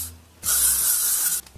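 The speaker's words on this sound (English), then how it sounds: "take the L'Oreal Elnet hairspray and just spray it all over" L'Oreal Elnet hairspray misted over a styled hairdo: one close, loud, sustained hiss lasting about a second, with a quiet room before and after.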